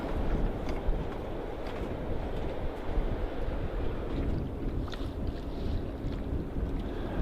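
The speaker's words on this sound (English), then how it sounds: "Follow our track back out and then sail. There's a nice little breeze right now to sail in." A sailboat moves through a light breeze off Costa Rica, with a continuous rush of wind and water and a steady, fairly close hiss and no voices.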